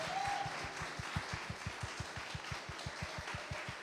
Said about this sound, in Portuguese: Pode aplaudir isso, glória a Deus.